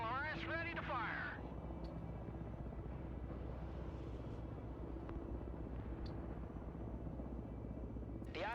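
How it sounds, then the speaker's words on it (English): V-22 Osprey tiltrotor aircraft flying in the video game Broken Arrow, a steady low droning rotor rumble that holds throughout, with brief voice chirps at the start and end. "The Osprey is in the air."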